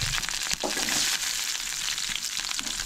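Soybeans roast in hot oil in a pan, giving a steady close sizzle and crackle with small bursts of stirring and no voices.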